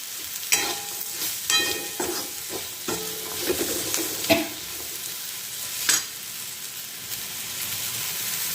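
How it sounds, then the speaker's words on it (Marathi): An eggplant bharit mixture with peas roasts in a pan over a low flame, giving a soft continuous sizzle broken by several sharp clinks and scrapes of a spoon stirring against the pan. "तर अगदी बारीक गॅसवर आपण हे चांगले भाजून घेणार आहोत"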